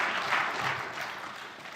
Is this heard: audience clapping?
yes